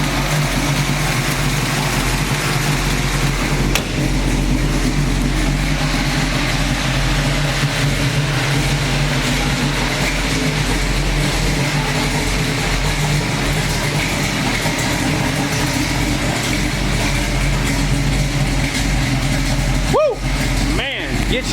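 A 1969 Chevrolet Camaro SS V8 idles with a loud, steady low rumble throughout, close by and continuous, with a brief break in the sound near the end.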